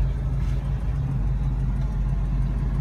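A 1967 Mustang with a 390 engine runs steadily nearby, a low, even rumble with a slight pulsing throb and no talk over it.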